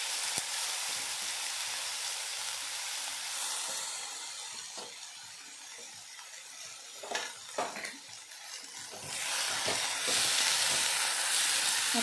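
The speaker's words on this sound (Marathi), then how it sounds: "इथे आपले मसाले फ्राय झाल्यानंतर याच्यामध्ये आपण टाकून घेणार आहोत भाजी" Chuka (sorrel) leaf vegetable frying in oil with spices for a quick sour bhaji, a steady close sizzle and hiss with a few clinks of a utensil against the pan and brief stirring scrapes, no voices.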